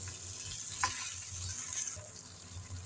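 Tomato chutney ingredients sizzle steadily in a pan, a soft hissing fry with occasional stirring scrapes, close but fairly faint and without talk.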